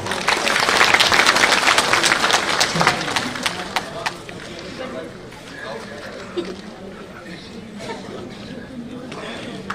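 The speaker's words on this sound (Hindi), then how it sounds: "तालियां थोड़ी कमजोर थी" Audience applause at a political rally, a few seconds of fairly loud clapping that quickly dies away, followed by crowd murmur and a speaker talking.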